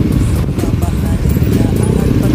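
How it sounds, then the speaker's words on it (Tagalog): Heavy city traffic on the road from Makati to Manila, with many motorcycles sharing lanes with four-wheel vehicles; a continuous close engine drone and rumble fills the scene while someone talks over it. "makikita natin talagang napakaraming motorsiklo, no, mga biyahero"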